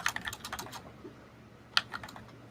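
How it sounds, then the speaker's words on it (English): Computer keyboard typing in irregular bursts of quick clicking keystrokes, close and fairly clear, with a short pause midway before a few more taps; no one speaks. "I'm gonna mute real quick, Cass, just for the typing and stuff"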